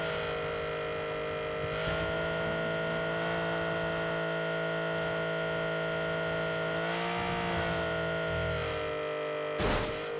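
Vehicle engine in PUBG Battlegrounds, a steady droning motor hum with shifting pitch as it drives, continuous and close, with a sharp burst of noise near the end.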